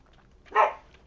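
A single short dog bark or yip from a pet dog, startled indoors in the middle of the night. The bark is fairly loud and close and comes once over a quiet background.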